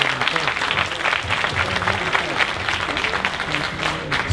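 A rally crowd at Southern University claps steadily for civil rights attorney Benjamin Crump, dense sustained applause with cheering voices mixed in and no pause throughout.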